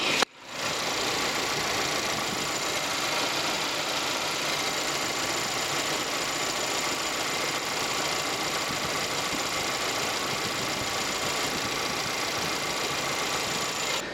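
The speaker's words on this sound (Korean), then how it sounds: "엔진 소리 들으셨겠지만 정말 정숙하고 역시나 휘발유다운 모습을 보여드리고 있고요" The petrol engine of a Samsung QM6 idles with the hood open, giving a smooth, even, quiet hum. It holds steady with no talking.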